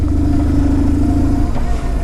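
A 2004 BMW R1150GS Adventure motorcycle engine drones loud and close while riding, a steady low thumpy rumble with a slight rise in pitch.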